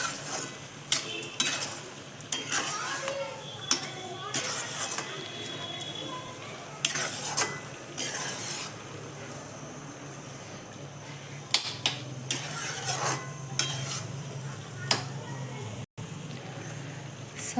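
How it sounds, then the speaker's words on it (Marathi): Carrot halwa with sugar is stirred in a pan, with repeated scraping and clinking of a spoon against metal over a faint sizzle, while someone talks now and then. "हलवून घ्यायचं आहे."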